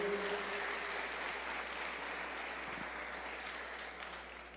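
A church congregation applauding at a service, a steady wash of clapping from many hands that holds evenly throughout and fades slightly at the end, with no voice over it.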